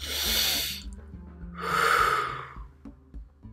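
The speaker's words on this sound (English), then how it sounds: "Take a deep breath from your gut, from your belly." Deep breathing from the belly: two long, loud breaths close up, a full inhale followed by a slower exhale, with quiet pauses and faint background music underneath.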